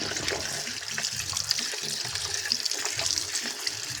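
Running tap water splashes steadily over saba bananas being washed by hand in a sink, a close, continuous rush with small splashy irregularities and no talking.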